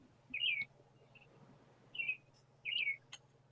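Several short chirping bird calls come from up on a patio roof, three distinct bursts spaced over a few seconds, moderately close above a low steady hum, with no talking.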